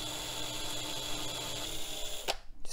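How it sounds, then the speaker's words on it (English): A drill bores into the case of a vintage pizza-box computer, giving a steady whirring, grinding hum that stops abruptly near the end, with no voices. "All we have to do is drill a hole above where pins 16 and 20 should be."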